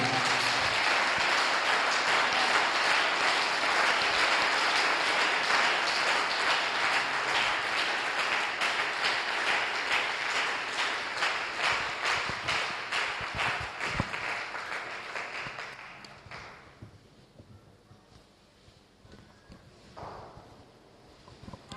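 Church congregation at a Sunday service applauds, a dense, loud ovation that holds steady for about fifteen seconds, then thins out and fades to scattered claps and quiet.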